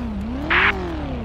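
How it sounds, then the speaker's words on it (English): A car engine in the video game GTA 5 revs once, close by. The pitch rises and falls over about a second, with a short bright burst at the peak over a steady background. "He's revving like he's about to run."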